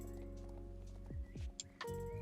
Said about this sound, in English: Also, how cute is not this horse?